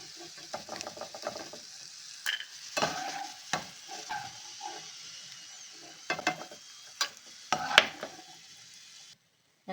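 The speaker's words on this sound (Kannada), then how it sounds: "ಕಡಲೆಕಾಯಿ ಬೀಜ ಫ್ರೈ ಮಾಡ್ಕೊಳ್ಳೋಣ." Peanuts fry in oil in a pan with a faint sizzle beneath repeated scraping and clinking stirs of a spoon, irregular and close, ending abruptly.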